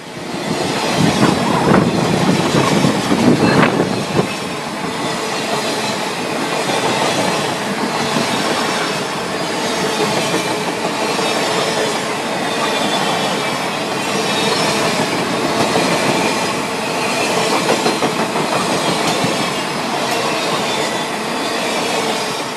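A long circus train led by a CN SD75I and a Norfolk Southern SD60E rolls steadily past close by near Detroit, continuous rumble with rhythmic wheel clatter and some squealing, starting with a louder burst.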